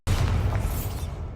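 An explosive Bombarda spell goes off in the Hogwarts Legacy video game: one loud, sudden boom that holds as a heavy, rumbling blast and slowly fades over the next second.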